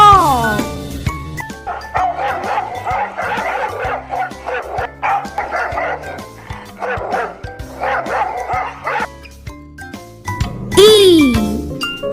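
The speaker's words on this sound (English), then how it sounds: "D for dog." A dog barks in short yips amid cheerful children's-song music with jingling tones, the barks close and moderately loud, with a voice speaking briefly at the start and end.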